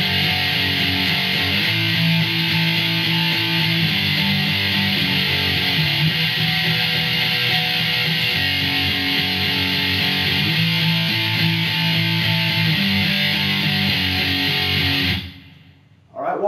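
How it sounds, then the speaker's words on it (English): Overdriven electric guitar playing a chorus, driving power chords held loud and dense for about fifteen seconds before cutting off abruptly near the end. "we're going into the chorus and we're going to go ahead and kick on the overdrive so it sounds like this"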